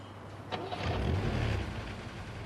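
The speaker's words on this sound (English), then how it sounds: "When Steve heard the sound of a car starting" A car engine cranks and catches, rising into a brief low rumble and settling to idle, moderately close and heard alone without voices.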